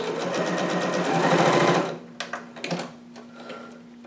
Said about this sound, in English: Then stitch at the end, back stitch